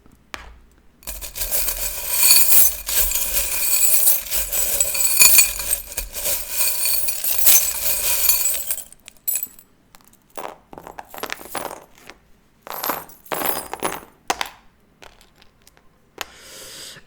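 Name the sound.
small charm trinkets clinking as they are handled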